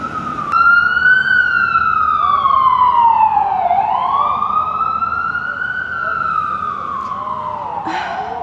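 An ambulance siren wails loudly nearby on a New York street, its pitch sweeping up and down in steady cycles, with faint traffic rumble underneath.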